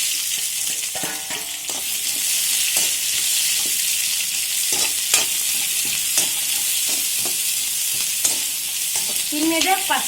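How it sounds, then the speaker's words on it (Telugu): Onions fry in hot oil for chole pulao, sizzling in a steady, close hiss with occasional stirring scrapes and clinks of a utensil against the pan. "ఇప్పుడు నేను ఆనియన్స్ వేసేస్తున్నాను."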